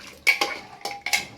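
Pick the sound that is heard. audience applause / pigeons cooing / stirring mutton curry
stirring mutton curry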